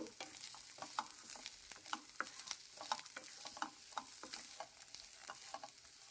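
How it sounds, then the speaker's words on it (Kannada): Ingredients, including coconut, roasting in hot oil in a pan for a cucumber and curd curry, with a steady soft sizzle and regular scraping stir strokes, fairly quiet and close, with no talk. "ಎಣ್ಣೆಯಲ್ಲೇ ಎಲ್ಲವನ್ನು ಹುರ್ಕೊಳ್ಬೇಕು."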